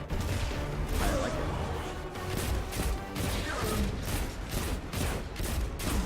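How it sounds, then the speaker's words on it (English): Hand cannon gunfire in Destiny 2, a rapid series of loud sharp shots and impacts repeating across the whole stretch, with some crashing noise between them. "It does a lot of damage though for a hand cannon primary."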